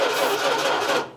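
A 1968 Dodge D200 truck engine cranks over on its starter, a dense steady churning that runs about a second at close range before cutting off abruptly.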